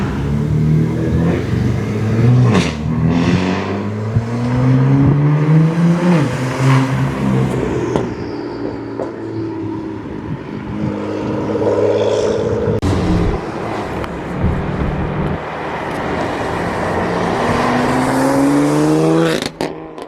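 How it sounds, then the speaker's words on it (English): A BMW F80 M3's engine roars past several times, revving hard with rising and falling exhaust notes, loud and close throughout. "The M3 sounds pretty good on the drive-bys, not gonna lie."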